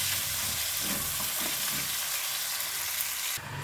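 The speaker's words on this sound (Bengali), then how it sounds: "এখন এই টমেটো কুচি দিয়ে দেবো। টমেটোটা দিয়ে ভালোভাবে একটু কষিয়ে নিতে হবে।" Chopped tomatoes sizzling in a hot pan for a Bengali fish dish, a steady close frying hiss with a few soft stirring scrapes, no talking.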